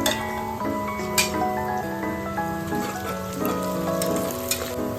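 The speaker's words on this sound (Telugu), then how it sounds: "ఇందులో పచ్చిమిర్చి ప్లస్ మసాలా సామాన్లు వేసుకోవాలి కాసేపు ఫ్రై చేసుకోవాలి" Onions, green chillies and whole spices frying in a pan for a cooker chicken pulao give a steady crackling sizzle with scattered pops, heard under background music.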